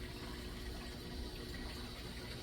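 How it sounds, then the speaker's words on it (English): Water pumps run in an irrigation setup, giving a steady low gushing and churning flow with a constant hum. The sound stays even and fairly faint for a few seconds, with no voices. "Make sure all my pumps are running fine."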